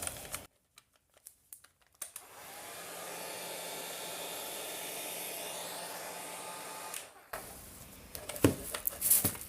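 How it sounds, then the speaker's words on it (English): Hair dryer blowing over poured acrylic paint, a steady broadband whoosh running for about five seconds between handling noises, with faint rustling and clicks around it. "Let's see how this hair dryer"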